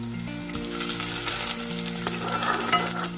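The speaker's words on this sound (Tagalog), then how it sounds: "Siyempre, gigisa po natin ang kamatis at sibuyas." Pork sautés in a hot pan with a strong, steady sizzle and occasional stirring scrapes, close and loud, over a low tonal hum.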